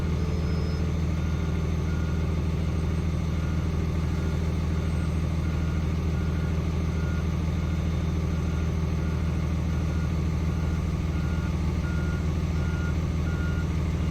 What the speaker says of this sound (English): Watch the back end of that tractor come up.